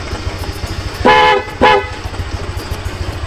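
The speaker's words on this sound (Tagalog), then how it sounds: "horn" Two loud, close horn honks from a 2021 Honda Click 125i version 2 scooter, each about half a second long with a short gap between them, sounding over a steady low idle rumble.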